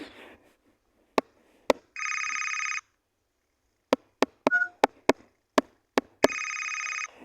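A telephone rings in the morning in two loud, steady bursts, separated by sharp, isolated clicks and knocks in an otherwise silent room.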